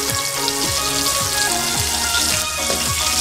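Slices of homegrown desi eggplant fry in a small amount of oil, giving a steady, loud, close sizzle that crackles continuously throughout, with no voices.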